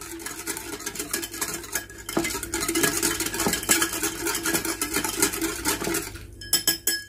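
A utensil stirs cake ingredients for a Nescafe coffee cake in a bowl, giving continuous scraping and clinking against the bowl, then a few separate taps at the end.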